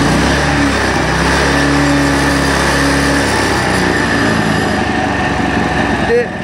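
A Shibaura FE601 hammer knife mower engine runs at full throttle, a loud, steady, close drone with a constant buzzing tone throughout.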